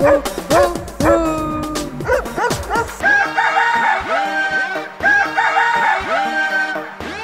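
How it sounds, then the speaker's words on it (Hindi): A dog barks in quick yappy bursts, mixed with cartoon animal sounds including a rooster-like crow, over an upbeat Hindi children's song accompaniment. "म्याओ तो कुत्ता बोले भू भू भू।"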